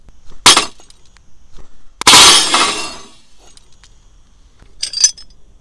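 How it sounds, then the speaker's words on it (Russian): An ordinary pane of glass is struck with a rugged BlackView BV6200 Pro smartphone, giving three sharp impacts, with the loudest middle blow bursting into a shattering crash and tinkling shards before a lighter final clink. "Поразбиваем с помощью этого смартфона обычное стекло."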